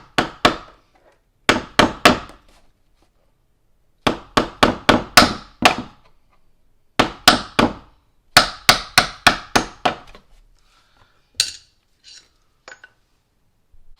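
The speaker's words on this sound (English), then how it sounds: "we're just going to put the screwdriver underneath the hinge and then tap it out" A hammer taps a Phillips screwdriver driving out a door hinge pin, sharp metallic strikes in quick bursts of three to six hits separated by pauses, loud and close with no talking.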